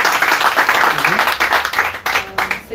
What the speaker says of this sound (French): Acclamez le Seigneur pour sa vie